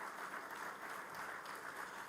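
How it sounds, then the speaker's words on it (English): Distant, faint applause from a large crowd at an awards ceremony, a steady wash of clapping with no voices on top. "Can we please clap hands for him?"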